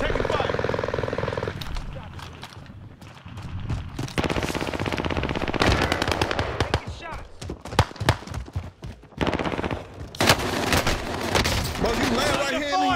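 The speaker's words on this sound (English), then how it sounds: "We're taking fire." Video game gunfire crackles in rapid automatic bursts and scattered shots, loud and close, alternating with quieter stretches while voices talk over the action.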